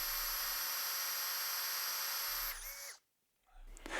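An electric drill with a 1/2-inch Forstner bit bores into wood, a high steady whine for about two and a half seconds that dips in pitch as it spins down and stops, then a brief restart.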